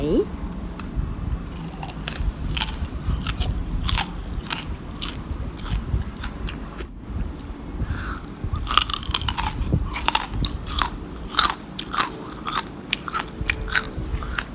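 Crispy Thai-style pork belly is bitten and chewed close to the microphone, producing a long series of sharp, loud crunches and crackles in an irregular rhythm.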